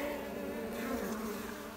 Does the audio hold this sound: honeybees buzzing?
yes